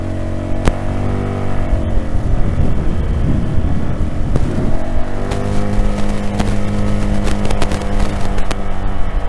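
A motorbike engine labors in first gear up a steep mountain road from Jispa toward Shinku La, a loud, steady throaty drone with wind buffeting the microphone and occasional throttle swells.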